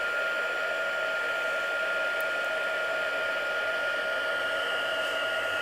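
A heat embossing tool blows hot air in a steady, even whir with a constant tone, moderately loud and close, running without a break and with no talking.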